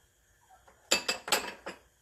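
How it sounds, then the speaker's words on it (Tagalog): A utensil clinks against a bowl while flour, cornstarch, salt and black pepper are stirred together for a chicken popcorn coating: four or five quick, bright scraping knocks close by after a quiet start. "paghaluin natin yung mga dry ingredients"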